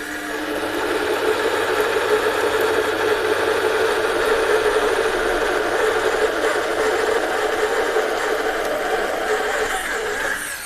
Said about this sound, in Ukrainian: Ну а тепер ті самі мінімальні оберти, але вже друга передача.